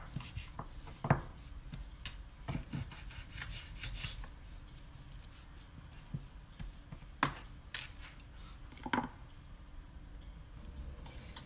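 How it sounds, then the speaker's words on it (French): A knife cuts meat into small pieces for tikourbabine, giving soft scraping and rubbing strokes with sharper irregular taps of the blade on a board, close and fairly quiet, with no talk. "je vais couper la viande en petits morceaux"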